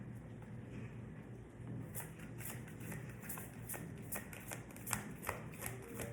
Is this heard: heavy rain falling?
no